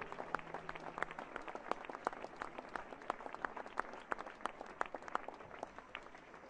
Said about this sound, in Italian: L'applauso per Claudio.